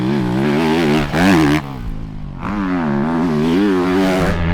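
A 2022 Honda CRF250 motorcycle is ridden in laps, its engine revving and shifting pitch up and down close by, loud and continuous throughout with a brief lull midway.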